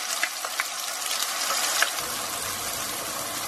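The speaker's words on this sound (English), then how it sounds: "So we're going to cook our onions well" Pureed onions fry in heated oil for a mild Mughlai chicken gravy. The hiss is bright and continuous, with a few soft stirring scrapes and pops, and the base deepens slightly partway through.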